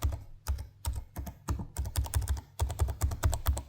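Clicky keys on a Lenovo Legion Pro 5 gaming laptop are typed in a quick, steady run of sharp, close taps, roughly a dozen strokes with short pauses between bursts and no voices.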